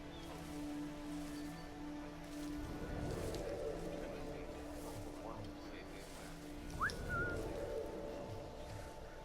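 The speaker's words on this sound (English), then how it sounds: "Oh shoot, I whistled way too many." A character whistles in Assassin's Creed III, a short rising whistle near the end over steady outdoor ambience with rustling and low game background sound.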